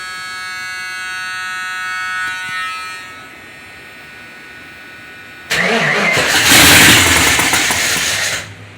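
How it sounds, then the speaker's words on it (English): A 1978 Ford Granada with a 4.0 engine and T5 gearbox is cranked over. A whirring starter is followed by a pause, then a louder, harsher cranking burst that runs for a few seconds before cutting off. No one speaks. "Let me crank it over and see."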